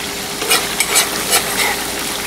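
Food frying in a kazan, a loud steady sizzle with several bursts of stirring scrapes, no talk.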